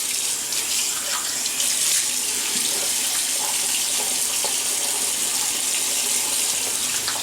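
Tap water runs steadily into a sink before shaving, a close, continuous splashing stream with small variations and no talking.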